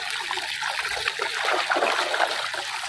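Water trickles and splashes steadily over a small crab as it is rinsed clean, a close, continuous splattering pour with no talk.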